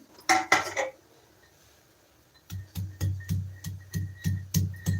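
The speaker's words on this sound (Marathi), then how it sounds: "पहिल्यांदा खोबरं आलं आणि लसूण हे आपण ठेचून घ्यायचंय" Coconut, ginger and garlic are crushed on a stone grinding slab set on a cloth, making a steady run of dull knocks. A short cluster of clinks comes first, then a pause before rhythmic pounding of about two strikes per second.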